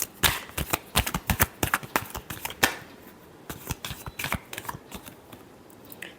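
Tarot cards being shuffled by hand, a fast run of crisp riffling snaps and flicks in irregular bursts, close and fairly loud with no voices over them.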